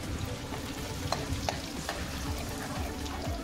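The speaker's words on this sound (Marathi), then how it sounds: "तेल गरम झाल्यानंतर मी येथे लसूण टाकणार आहे फोडणीसाठी" Chopped garlic and ginger fry in hot oil for tempering while cabbage manchurian is being made, giving a steady soft sizzle broken by a few light stirring clicks.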